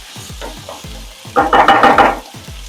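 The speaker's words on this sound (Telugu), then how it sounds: "బాగా ఫ్రై అవ్వాలి ఇప్పుడు" Food frying in a pan, a close sizzle with repeated stirring scrapes and taps that swells into a brief louder crackle.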